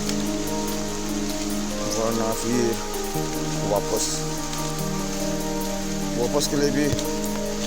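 Heavy rain pours steadily on a jungle trek, a dense continuous hiss of drops on surfaces with people talking over it.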